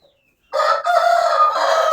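A rooster in Amrobod village, Bogʻdod district, lets out a single loud, close crow after a moment of silence, holding the call steadily to the end with no voices.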